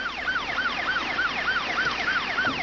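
An ambulance siren wails in a rapid, evenly repeating rise-and-fall yelp, loud and steady throughout, with faint traffic rumble beneath.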